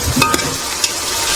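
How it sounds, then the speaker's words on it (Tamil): Green chillies fried in a pan for a Deepavali feast, with a steady sizzle, a few soft stirring scrapes and small crackling pops, heard up close and alone. "பச்சை மிளகா போட்டுக்கிறேன் ஃப்ரெண்ட்ஸ்."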